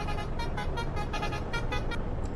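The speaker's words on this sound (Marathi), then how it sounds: "बघा कसं मारते हॉर्न." Truck horn in a truck simulator video game, sounded in a string of repeated blasts, loud and close, with a steady engine rumble underneath and no talk.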